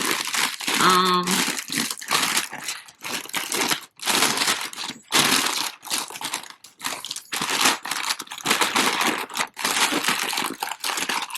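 Gift wrapping paper crinkles and rustles loudly while a present is being wrapped, coming in repeated close bursts of handling with brief pauses between them.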